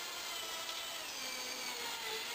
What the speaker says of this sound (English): so I slow the drill down a bit.